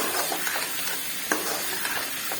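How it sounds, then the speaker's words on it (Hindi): Minced meat and bitter gourd fry in a pan, a steady broadband sizzle with a few scraping stirs and one sharp clink, close and continuous with no talk. "अब इसको हम भूनेंगे"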